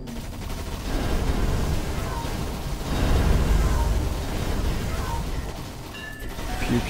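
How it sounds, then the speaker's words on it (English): Rapid gunfire in the top-down shooter Steel Storm: Burning Retribution, a dense continuous barrage of weapon fire and explosions filling the whole stretch, loud and close. "Pew pew, shooting stuff."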